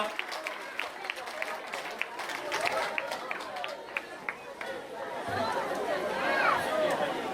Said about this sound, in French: On va les applaudir encore une fois bien fort, toute l'association GYK